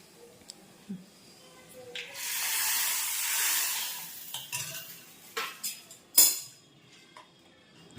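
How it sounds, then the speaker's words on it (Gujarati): Dal being tempered in a home kitchen: a loud burst of sizzling spices in hot oil swells and fades, followed by stirring, metal clinks against the pot and brief spits. "દાળનો વઘાર કરી રહ્યા કાકી."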